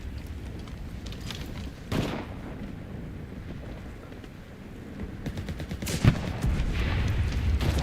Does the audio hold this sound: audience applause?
no